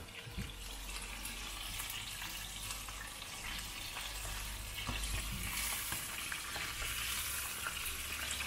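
Chicken pieces frying in hot oil make a steady, dense sizzle with crackling bubbles, continuous and close for the whole stretch, slightly louder toward the end.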